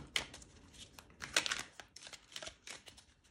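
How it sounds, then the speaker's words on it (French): Tarot cards drawn and shuffled from a deck: soft, close papery rustles and crisp card flicks in short irregular bursts, quiet throughout. "Je vais prendre 2 dernières cartes"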